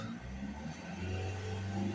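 A Mercedes E Class 2.1 CDi diesel engine with a soot-clogged particle filter is held at raised revs. It gives a steady, close, droning hum whose pitch rises slightly partway through.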